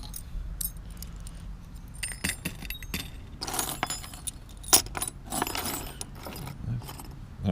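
A pile of old keys, including barrel keys, is sorted outdoors in the sunshine, with repeated bright metallic jangles and clinks in bursts of varying loudness and no talking.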